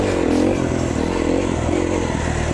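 2011 KTM 350 XC-F dirt bike on its stock engine setting, a loud, close, continuous rough engine drone with a slight rev swell at the start, heard alone.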